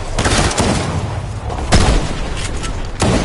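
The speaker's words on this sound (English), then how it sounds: "he hit me with an SMG from miles away" Dense SMG gunfire and explosions fill a Fortnite battle, with loud continuous rattling bursts and a few heavier booms and no pause.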